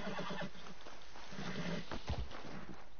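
A horse in the video game Red Dead Redemption 2 whinnies loudly amid hoof clatter and game effects, close and brief, with no talking.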